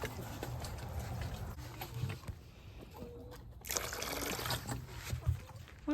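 Vinegar poured into chickens' drinking water gives a soft, close trickle and splash of liquid that runs for a few seconds over quiet outdoor background, with no speech.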